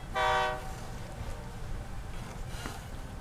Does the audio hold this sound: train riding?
yes